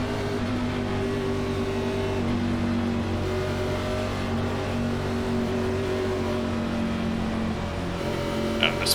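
A field of NASCAR Xfinity race cars at Auto Club Speedway in iRacing, rolling toward a start, makes a steady, dense engine drone with layered tonal hums. The sound stays loud and even throughout, with no voices.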